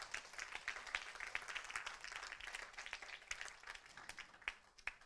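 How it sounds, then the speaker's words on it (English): Applause at a business and retail industry forum in Petaling Jaya, a faint, distant patter of clapping from a modest audience with a few sharper individual claps standing out. "Round of applause again, ladies and gentlemen."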